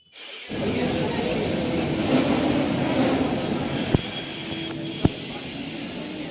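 Steady rumble of a moving passenger train heard from inside the carriage, a broad continuous roar with two sharp clacks near the end and no talking.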